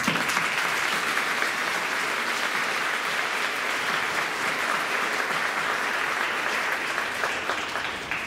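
Graduates at a Christian academy ceremony are applauded by a large crowd, a dense, even wash of clapping that holds steady throughout and eases slightly at the end.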